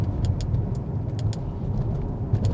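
A 2021 Audi SQ5's engine pulls hard under acceleration, a steady low rumble heard from inside the cabin with faint ticks and rattles on top, no one speaking.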